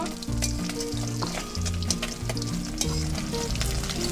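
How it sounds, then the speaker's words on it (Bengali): Bata fish frying in hot oil while being flipped in the pan, a loud continuous sizzle with clinks and scrapes from the spatula throughout. "আমি মাছগুলো এবার উল্টিয়ে দেব"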